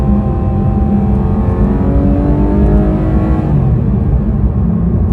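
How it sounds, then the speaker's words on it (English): Porsche 911 GT3 RS engine revving from inside the car, a loud, deep rumbling roar whose pitch climbs smoothly and then eases back, no voices over it. "Oh, it makes such a noise. The noise is glorious."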